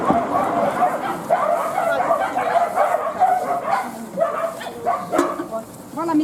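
Several dogs bark, yip and whimper in a shelter courtyard, overlapping near and far in irregular bursts, with people talking underneath at times.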